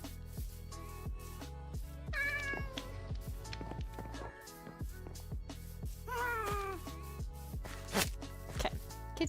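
Cat meowing inside a Minecraft-style video game, a string of repeated high meows and caterwauls in quick succession over steady game clicks and footstep thuds, fairly loud and with no talking.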